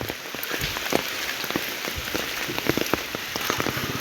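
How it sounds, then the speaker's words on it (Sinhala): Heavy rain pattering hard on surfaces outdoors at a temple almsgiving stall, a dense steady downpour with scattered louder drops close at hand. "කට්ටිය වහිනවා මේ හොඳටම"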